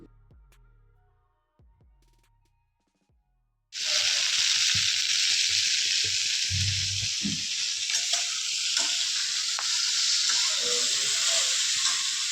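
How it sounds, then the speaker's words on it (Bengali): Eggplant slices fry in a pan, starting around four seconds with a loud, steady sizzle and hiss that holds to the end, broken by faint clinks and scrapes; a few soft knocks come before it. "এই যে বেগুনগুলোও ভেজে নিচ্ছি"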